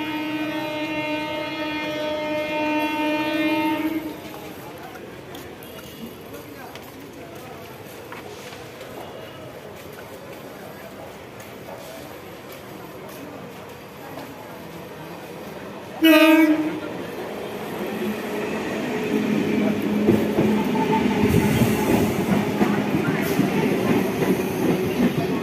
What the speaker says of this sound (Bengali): ট্রেন ঢুকছে, শান্তিপুর লোকাল।